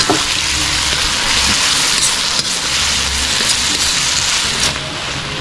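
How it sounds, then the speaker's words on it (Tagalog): Tomatoes fry in a pan with pork belly, sizzling loudly and close, with scraping stirs and spatula knocks through a dense crackling hiss, no voices. "Lutuin lang natin ang kamatis mga kasolid hanggang sa mag-caramelize siya"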